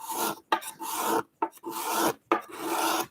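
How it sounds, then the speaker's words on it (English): A cabinet scraper rasps across wood end grain in repeated strokes, each a dry, scratchy drag of about half a second to a second with short gaps between, close and clear with no voices. "I work with the scraper."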